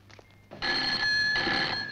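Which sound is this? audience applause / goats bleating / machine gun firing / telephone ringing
telephone ringing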